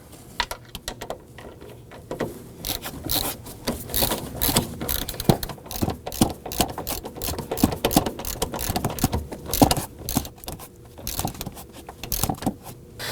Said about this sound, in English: Let's go ahead and install the nuts.